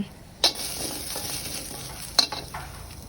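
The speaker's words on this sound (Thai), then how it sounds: "เอากระทะตั้งไฟจ้าจะมาขัวพริกหอมกระเทียม" Quiet sizzling from a pan as chili, shallot and garlic are stir-fried, with a couple of sharp scraping clinks of a utensil against the pan.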